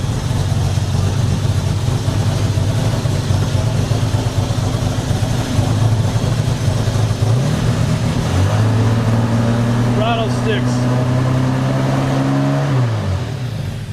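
An old Jaguar car, abandoned in a barn for 20 years, runs loudly up close with a steady idle, then its engine revs up and holds higher before dropping back.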